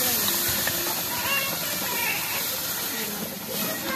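Food roasting over a high flame in a thin cooking pot, a steady sizzling hiss that runs the whole time, with faint voices talking in the background.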